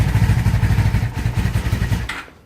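A 1996 Honda Magna motorcycle engine catching and idling, loud and close, with a rapid rhythmic low pulsing throb and mechanical clatter before it fades off at the end.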